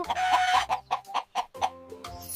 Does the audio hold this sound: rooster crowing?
yes